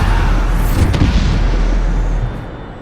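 A Bombarda spell explosion in the Hogwarts Legacy video game: one loud, booming blast with a heavy low rumble that holds steady, then drops off slightly near the end.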